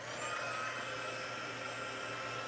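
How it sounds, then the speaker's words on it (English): A heat embossing tool blows hot air with a steady, close whooshing fan roar and a constant motor hum, unchanging for a couple of seconds with no talking. "So let me bring in my heat tool."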